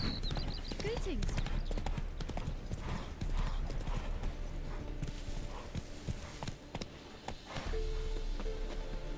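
Roach, a horse in The Witcher 3: Wild Hunt, gallops with quick rhythmic hoofbeats, steady and fairly close, over game music and ambient sound, with a short whinny-like cry early on.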